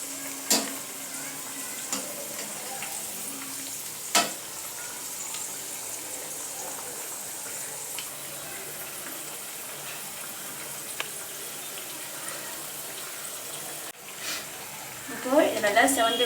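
Masala vadai fry in hot oil over medium heat, a steady, moderate sizzle running throughout with a few sharp clicks and some stirring noise near the end.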